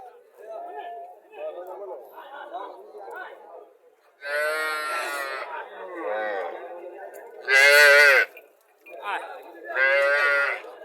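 A native (deshi) dairy cow at a village cattle market in Chauddagram, Cumilla moos several times, long drawn-out lows alternating with a voice talking nearby.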